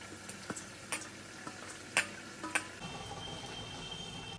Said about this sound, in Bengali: এবার এখন দিয়ে দেবো এই যে চিংড়ি মাছগুলো, ভেজে রাখা চিংড়ি মাছগুলো দিয়ে দেবো